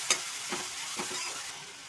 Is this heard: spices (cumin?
yes